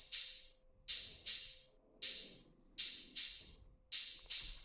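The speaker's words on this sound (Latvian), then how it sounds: "Un ir arī open hat," Open hi-hat in a produced hip-hop beat, six bright hissing cymbal hits each sustaining and decaying before the next, in a steady pulsing rhythm, alone and close.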